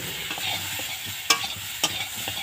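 Grated ginger, turmeric and salt fry in a home cooking pan, giving a continuous close sizzle as they are stirred, with two sharp utensil scrapes against the pan.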